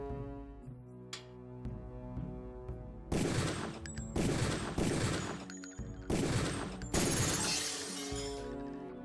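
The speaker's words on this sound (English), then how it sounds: "Release the first target and take a few shots with one of the pistols until it is destroyed" Several pistol shots blasting apart a training target in the Deus Ex video game, loud bursts of shattering debris arriving in three or four heavy clusters over a steady low background hum.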